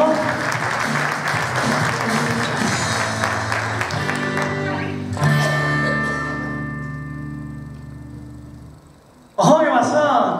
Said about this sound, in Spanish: Un fuerte aplauso, él se llama Juanfri Batista.